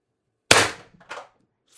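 A single sharp, loud shot from a CO2 air gun fitted with a 4x12g CO2 stock build, followed by a short fainter report and quick decay into silence.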